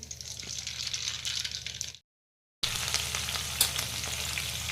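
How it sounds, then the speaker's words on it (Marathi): Cumin and mustard seeds sizzle in hot oil in a home kitchen, a bright, steady crackling fry that cuts out briefly and then resumes just as strongly, with a few sharp pops. "जिरं थोडं थोडी राई घालायची"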